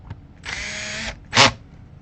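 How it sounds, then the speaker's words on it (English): A power drill drives screws into a Fender Squier Stratocaster guitar, with its chuck set to 15: a steady whirring burst of about half a second, a pause, then a second, shorter and louder burst, with no talk. "Got to set your chuck to 15 so that you get these screws in tight enough"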